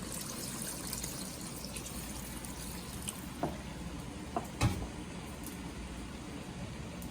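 About one and a half cups of water pours quietly into a pot of Nepali-style Singapore devil's curry, a faint trickling fill with a few soft knocks.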